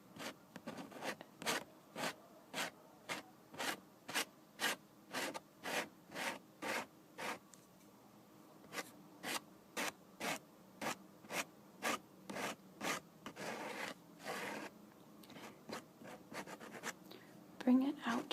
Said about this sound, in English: I'm going to use an eyeliner pencil